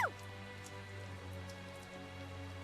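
Faint, steady rain patter in the Tales of Zestiria video game, a soft continuous hiss layered under a low sustained musical drone, with no voices.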